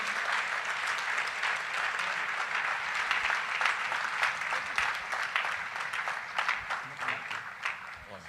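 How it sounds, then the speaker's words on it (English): An audience at a teachers' conference breaks into sustained applause as a speaker walks up, with dense clapping from a large crowd that continues evenly and thins slightly toward the end. "A round of applause as he gets here."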